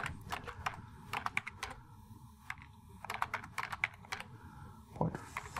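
Rapid typing on a computer keyboard, bursts of key clicks with brief pauses between them, close and clear with no voices.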